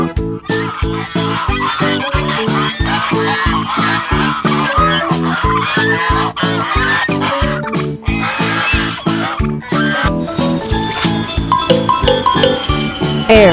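A yellow toy duck plays a loud, continuous electronic melody with a steady rhythmic pulse and quacking-like tones throughout, with no talking.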